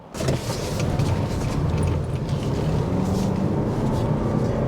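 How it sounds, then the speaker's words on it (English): Steady engine and road noise fills the cabin of a 2024 Lexus UX250h hybrid driving in traffic, a continuous even hum with no talking. "There's not a lot of engine noise coming into the cabin"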